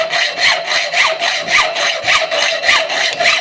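A hacksaw cuts steel stock along a marked line for a knife made from a Harbor Freight belt sander project, with loud, steady back-and-forth strokes at a brisk even rhythm, close up and alone.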